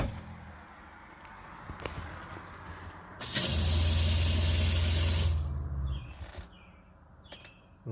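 Water bursts from a small faucet in a camper van conversion of a 2018 Promaster, fed by a water pump that adds a steady low hum; the loud, even gush runs about two seconds then cuts off, leaving quieter room sound.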